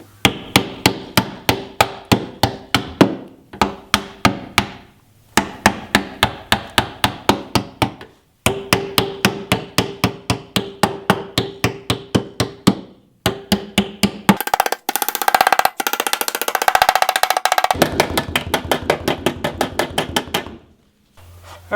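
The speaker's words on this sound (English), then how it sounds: "then we're going to take a hammer and start smacking" A hammer strikes cut lines in Napier fender flares again and again, loud and close, in quick runs of sharp blows separated by short pauses, with a denser, rougher stretch of pounding near the end.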